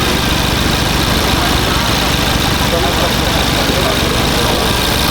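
A loud car engine, a 2.0 TFSI, idles with a dense, throbbing rumble that holds steady for the whole stretch.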